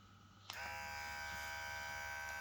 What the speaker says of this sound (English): This trimmer got also 2 speed. This is the first speed, and the second one.